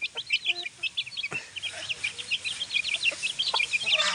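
Rhode Island crossbreed chickens cluck and chatter nearby in a busy, overlapping flock, with short repeated calls and a few sharper notes over a quiet background.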